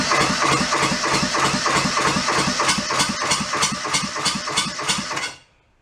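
A junked small diesel engine runs steadily at idle, close and loud, with a fast regular knocking beat throughout before cutting off abruptly near the end, leaving silence.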